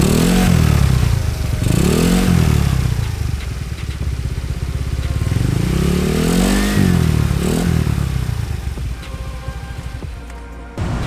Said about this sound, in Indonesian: Pas gua tarik sih suara knalpotnya jadi lebih adem, ngebas gitu